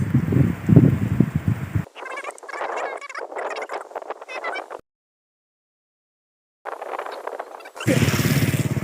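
An H Power Loncin GP 165 motorcycle rides a winding village road, its engine droning and revving in choppy stretches broken by sudden cuts and a stretch of silence.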